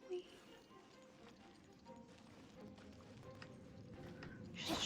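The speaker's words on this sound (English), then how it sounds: "Horse." A horse clip-clops along at a steady trot in the Genshin Impact video game, faint and soft under an ambient background, with a brighter swell at the very end.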